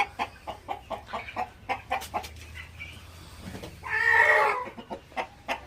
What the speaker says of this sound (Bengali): এগুলো হচ্ছে আপনার ব্রাহ্মার মোরগ